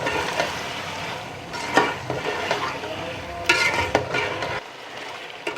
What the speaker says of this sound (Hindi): टमाटर और हरी मिर्चों को डाल के मिक्स करेंगे।